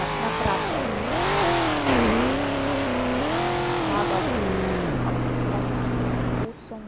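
Lamborghini Aventador sports car engine in Roblox ramp jumping, a loud sustained revving roar with rising and falling pitch that settles to a steady drone, then cuts off abruptly near the end.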